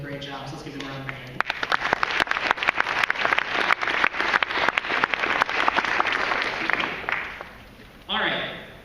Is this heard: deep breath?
no